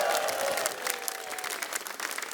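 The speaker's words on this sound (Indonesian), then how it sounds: "tepuk tangan buat mereka semua" An audience at an Indonesian stand-up comedy show applauds in a dense, steady wash of clapping that thins slightly toward the end, with a brief voice trailing off at the start.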